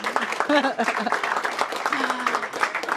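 Audience clapping at a mayor's press conference on public safety, a moderate patter of hands heard under a speaker's continuing voice.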